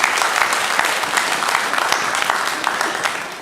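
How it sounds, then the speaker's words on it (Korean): A church congregation at a Sunday morning worship service applauds, a dense, steady wash of clapping from many hands that holds at an even level from start to finish. "영광의 박수를 우리 하나님께 올려드리겠습니다."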